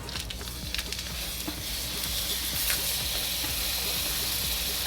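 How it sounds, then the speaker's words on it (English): Sausage dropped into hot oil in a home kitchen gives a steady, fairly quiet hiss and sizzle with faint clatter, no talking over it. "that gave us a little sizzle"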